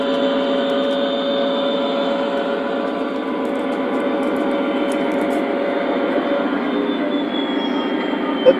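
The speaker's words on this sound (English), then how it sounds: "we're going to stop the train here" An O gauge model train runs steadily along its track, a continuous rolling rumble with a rhythmic clicking of wheels and faint high squeal, holding even loudness throughout with a brief sharp tick near the end.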